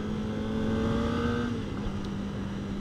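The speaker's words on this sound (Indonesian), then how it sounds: "kalian dapetin motor dengan mesin 4 silinder dan sensasi suara raungannya" A Kawasaki Ninja ZX25R four-cylinder motorcycle engine roars steadily at close range, its pitch rising slightly then settling, with no speech.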